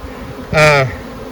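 Honey bees scuffle at a hive entrance as a guard bee confronts an unfamiliar bee, giving a sudden loud, close buzzing burst of about a quarter second over a quieter background hum of the colony.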